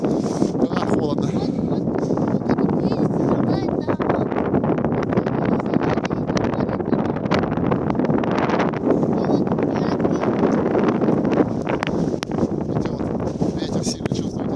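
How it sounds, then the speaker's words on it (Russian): Strong winter wind blowing across a village in Belgorod region, a loud, constant roaring buffet battering the microphone for the whole stretch, with gusty rumble and rustle and no pause. "Ветер сильно чувствуете, да?"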